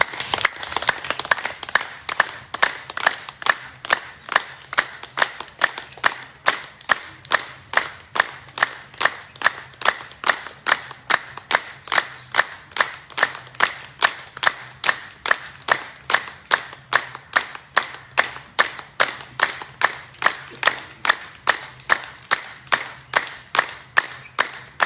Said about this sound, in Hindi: बजाएंगे ताली जोर से